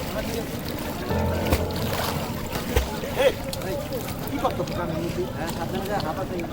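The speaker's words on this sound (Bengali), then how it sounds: "এখানে সবচেয়ে ভালো লাগে এই বনের মধ্যে ছোট নৌকা নিয়ে ঘুরে বেড়াতে" Small wooden boat moving through flooded forest water on Tanguar Haor wetland, a near swish and lapping with occasional knocks and splashes, heard under people talking.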